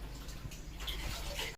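Water sloshes and runs steadily as boneless chicken soaks in a vinegar-and-water mixture during shawarma prep, a continuous close wash of liquid with no talking.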